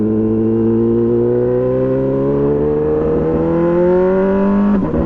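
Brutale 1000RR motorcycle with a full titanium Arrow exhaust riding at night, its loud engine note steadily climbing in pitch under acceleration, then a sudden drop near the end as it shifts or rolls off.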